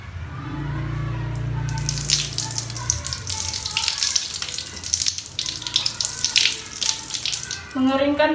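Tap water runs steadily as hands are washed under it, a close, continuous splashing and gushing with hands shifting through the stream, and a voice speaking briefly near the end.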